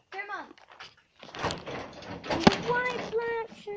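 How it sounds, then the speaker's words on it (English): A garage door closes with a broad rumbling slide lasting a couple of seconds, mixed in with nearby talk, including a voice, before and after. "that closes the garage door"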